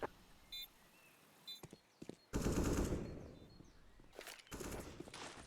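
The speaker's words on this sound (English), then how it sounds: "He's gonna get sprayed in the other direction as Cillian takes his position" Rapid automatic gunfire sprays in a CS:GO match, bursts of shots separated by short pauses along with quieter clicks and footsteps, fairly faint overall.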